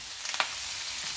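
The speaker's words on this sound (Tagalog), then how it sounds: "nagigisa na ako. Tinututong ko na yung pork." Pork sautés in a pan with bitter gourd, giving a steady broad sizzle with a few brief scraping stirs near the start, close and continuous.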